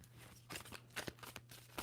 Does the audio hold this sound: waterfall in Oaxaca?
no